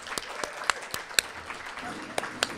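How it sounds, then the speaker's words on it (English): A residency welcome audience stands and claps, scattered distinct claps with a few sharp louder ones over a light crowd murmur, fairly quiet and a little distant. "I think we should stand up and clap"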